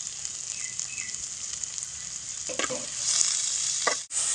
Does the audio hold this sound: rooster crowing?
no